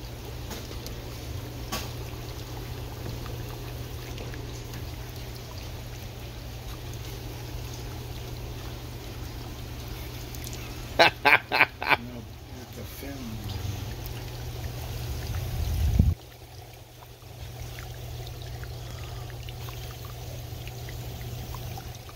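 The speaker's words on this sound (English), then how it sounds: "This is the Mxmoonant ultrasonic mist maker." A Mxmoonant 10-head ultrasonic mist maker runs submerged in water, giving a steady low hum under soft bubbling and trickling, with a few sharp clicks near the middle and a brief louder surge just before a drop.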